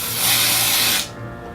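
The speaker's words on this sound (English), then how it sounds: "we're just going to spray that on his hair" An aerosol can of washable white hair paint sprays onto hair in a loud, close, continuous hiss for about a second, then cuts off abruptly, leaving a quiet room.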